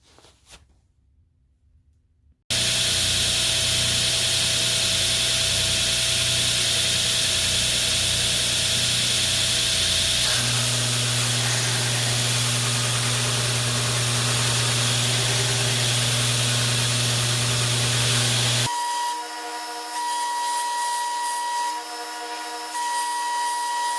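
A handmade karambit knife blade is ground on a power grinder, a loud, close, continuous harsh grinding that starts after a brief quiet moment, runs about sixteen seconds, then gives way to a steadier motor hum.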